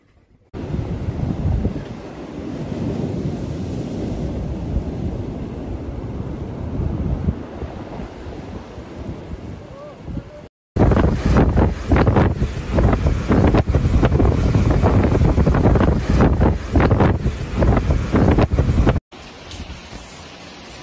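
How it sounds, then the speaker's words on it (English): Strong winds of Extremely Severe Cyclonic Storm Biparjoy roaring hard against the microphone, a dense gusting rumble that surges louder midway, with possible sea and surf noise mixed in. "might sustain a wind speed of 155 to 165 km per hour, gusting to 185"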